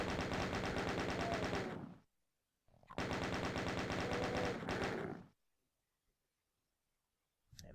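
A rapid-fire gun shoots in the video game DOOM in two long, dense, loud bursts with a short silence between them, and a third burst begins at the very end.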